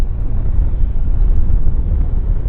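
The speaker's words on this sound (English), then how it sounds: "We've got a Westjet taxiing out right here" A WestJet airliner taxis at Vancouver Airport, its steady low jet-engine rumble and roar filling the background continuously without a break, with no voices over it.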